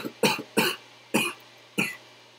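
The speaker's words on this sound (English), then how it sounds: "I'm gonna cough." Four sharp coughs from one person in a quiet room, the first a quick double, each a short harsh burst with a fading tail and a steady low hum beneath.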